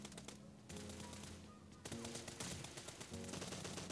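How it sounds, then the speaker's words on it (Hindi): Dense automatic gunfire in the mobile shooter game Battlegrounds Mobile India, a continuous loud rattle of bursts with brief breaks, filling the whole stretch without talk. "मैंने गोली चलाई थी लेकिन वो उसे नहीं लगी"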